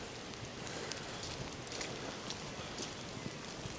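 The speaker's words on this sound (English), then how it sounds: "It's quite a warming feeling walking in the rain." Soft, steady rain patters all around, a dense hiss of drops with occasional closer taps, fairly quiet and without voices.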